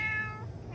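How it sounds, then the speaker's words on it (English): A cat meows once at close range during a road trip with a large toy-hauler trailer, a single drawn-out, slightly fading cry over low background rumble. "She's been meowing the whole time."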